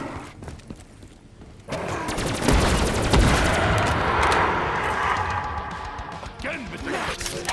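Heavy sustained gunfire from the shooter Black Ops III bursts into a dense, loud barrage of rapid shots and impacts, with a voice talking over the din.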